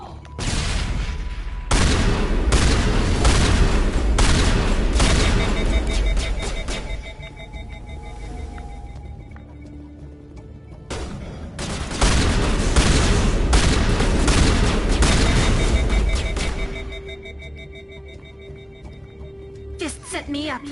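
In Mass Effect, a squad fights in a city level, with loud sustained bursts of gunfire and booming blasts including a grenade explosion, broken by a quieter stretch before a second heavy volley, with voices speaking between.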